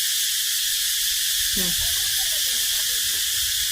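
Cicadas shrill in a dense, unbroken high drone that fills the whole stretch, loud and steady, with a brief voice murmuring faintly underneath.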